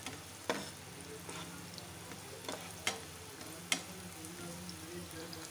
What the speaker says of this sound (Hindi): इसको भी 1-2 मिनट के लिए फ्राई करेंगे।